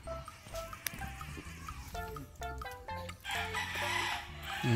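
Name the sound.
chicken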